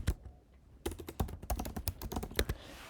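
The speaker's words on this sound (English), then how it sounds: "and I'm typing their information" Typing on a computer keyboard: a quick, uneven run of crisp, close key clicks that starts after a brief lull and continues with no talking.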